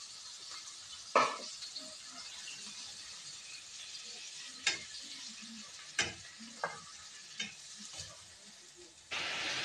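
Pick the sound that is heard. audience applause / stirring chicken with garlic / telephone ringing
stirring chicken with garlic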